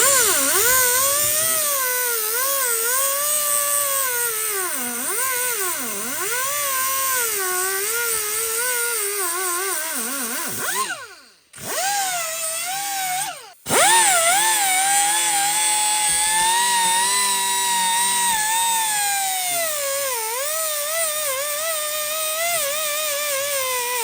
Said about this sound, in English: we're going to get a grinder, and we're going to cut the tip of that thing off